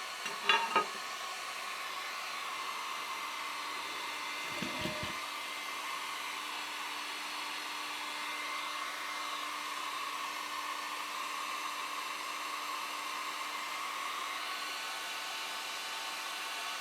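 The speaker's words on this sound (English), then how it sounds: "Now to uncurl it, you heat it with a heat gun." A heat gun blows a steady, even hiss of hot air onto a curled plastic pipe to soften and uncurl it, constant and moderately close with a few faint knocks near the start.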